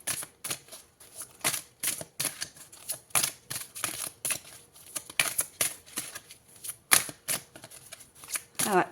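Tarot cards are shuffled and riffled in rapid bursts of crisp, close flicks and snaps that come in an uneven rhythm throughout.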